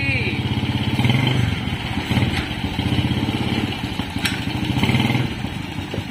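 An old three-wheeled motorcycle puttering at idle before a test ride, with a steady mid-pitched engine throb that rises and falls slightly under ongoing conversation.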